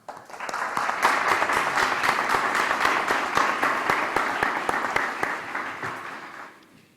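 Audience at an inaugural university lecture gives a welcoming round of applause to a professor: dense, steady clapping rising quickly, holding for several seconds, then fading out.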